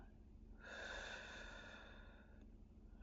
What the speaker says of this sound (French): si je suis bien concentré, je peux entendre ma respiration